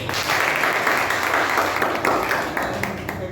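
An indoor audience claps together at a press day celebration held in a public works department meeting hall, a steady, moderately loud wash of applause lasting a few seconds with no talk over it.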